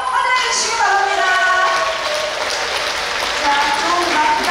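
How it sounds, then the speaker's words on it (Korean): An audience at a stage performance claps to welcome a ukulele team, a loud, even patter of many hands that runs throughout while a voice talks over it. "여러분, 박수로 환영해 주시기 바랍니다"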